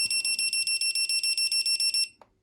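A rapid series of high-pitched electronic beeps from a cheap four-channel RC radio transmitter adjusting trim repeats in quick, even pulses, then stops abruptly, followed by a faint click.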